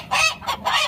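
At night, disturbed chickens that had been sitting quietly in their shelter squawk loudly and up close, in three sharp honking bursts.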